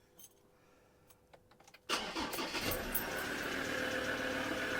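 A Ford Ranger diesel engine cranks and catches with a sudden loud start partway through, then settles into a steady, close rumbling idle after a quiet lead-in.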